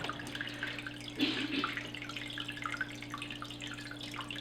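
Water trickling and gurgling as a siphon draws water and debris out of a planted aquarium, a faint continuous drip-like flow with a brief louder slurp, over a steady low electrical hum.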